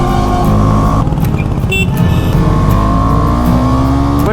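A Triumph Tiger 900 motorcycle accelerates hard through the gears, loud and close, its engine note climbing, dropping briefly at a shift, then rising again.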